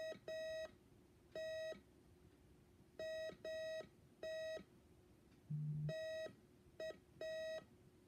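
Morse code beeps sound as crisp electronic tones in uneven groups of evenly pitched pulses separated by silences, with one brief lower buzz partway through.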